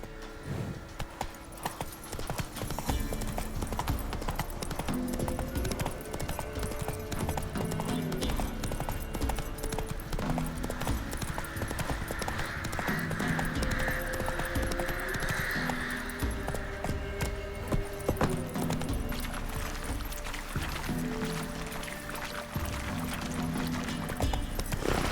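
Horse hooves gallop in The Witcher 3 video game, a steady rapid clip-clop running nearby for the whole stretch over a busy background of game music and ambience.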